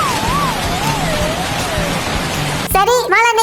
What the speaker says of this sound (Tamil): இந்த மழை வேற வந்துடுச்சு